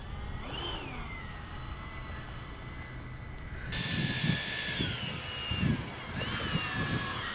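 A Freewing 80mm A-10 RC jet taxis with a steady high-pitched electric ducted fan whine that swells and shifts in pitch, heard continuously outdoors with some low rumbling bursts.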